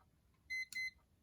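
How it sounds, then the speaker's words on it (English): A Mondaine alarm clock sounds its alarm: two loud, clear electronic beeps in close succession, alone in a quiet room. "it also has a nice alarm sound, which hopefully I can show to you now"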